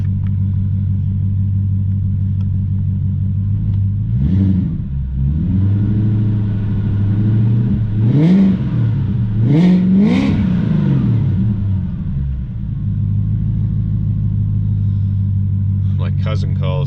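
A tuned BMW 540i E39 with a V8 engine and custom exhaust idles with a deep, loud rumble, then revs several times in quick bursts around the middle before settling back to a steady burble, with some talk over it.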